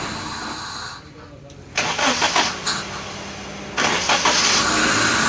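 Suzuki Liana car engine, hard to start when hot, cranking and catching in bursts after a weak-ignition fix; loud close bursts of engine noise after a quiet stretch, with speech over it.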